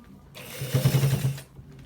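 A sewing machine runs one continuous burst of stitching along a shirt front pocket, whirring up from quiet, holding steady for under a second, then stopping, close and alone.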